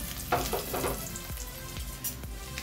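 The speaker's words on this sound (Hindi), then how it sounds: "लेंगे सरसों और खड़ी लाल मिर्च ज़्यादा लेंगे खड़ी मिर्च" Mustard seeds and whole dried red chillies frying in mustard oil for a tomato chutney, a steady close sizzle with scattered popping crackles throughout.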